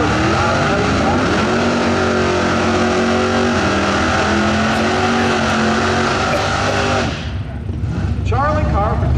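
A 2012 Ford Mustang makes a drag racing run, its engine roaring loudly and steadily for about seven seconds before cutting off abruptly, with an announcer talking over the noise throughout.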